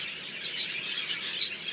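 A cinnamon gray budgie hen chirps in a series of soft, quick, high tweets that ripple continuously, rising to a slightly louder burst near the end, heard alone and close by.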